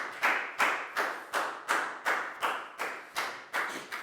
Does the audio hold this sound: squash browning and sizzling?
no